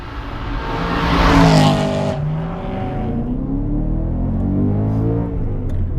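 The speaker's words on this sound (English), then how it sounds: "Fun to rev this engine." A BMW E92 M3 with a six-speed manual revs up loudly, its pitch climbing and then dropping back into a throaty rumble that holds steady, close by.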